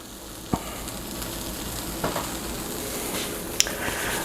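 A grilled cheese sandwich topped with cheddar sizzles steadily in a pan, a constant close frying hiss broken by a few sharp clicks and scrapes.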